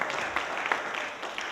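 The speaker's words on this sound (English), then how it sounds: "Give God a hand clap of" A church congregation claps their hands in praise, a steady flurry of many overlapping claps that fills the room at close range, with no one talking.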